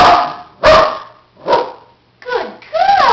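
A female dog barks on command, several short sharp barks spaced apart with brief yelps, loud and close, with a voice speaking between them.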